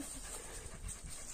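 Hunting dogs out on a hillside hunt pant in quick, rough breaths close by, a short burst of huffing against a hissy outdoor background with no voices.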